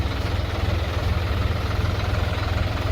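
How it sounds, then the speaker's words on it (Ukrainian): A Solis RX50 50-horsepower tractor engine idles evenly with a steady, low rumble and a rapid throbbing pulse, running continuously and fairly loud throughout. "Сьогодні представляю вам трактор Solis."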